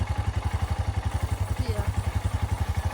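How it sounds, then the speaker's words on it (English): A Royal Enfield Himalayan motorcycle idles close by with a steady, rapid thumping beat that runs without a break. "Now I'm gonna switch on the bike, put it on first gear, and slowly keep adding to it."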